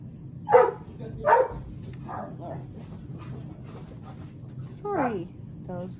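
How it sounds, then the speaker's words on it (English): Household dogs barking indoors: two sharp barks early on, then softer yips and a whimpering whine, heard at middle distance over low room noise. "sorry, those are our dogs"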